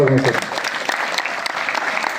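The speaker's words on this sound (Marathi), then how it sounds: "जोरदार टाळ्या" An audience at a school counselling event breaks into loud, dense applause, continuous clapping filling the room after a voice briefly speaks at the start.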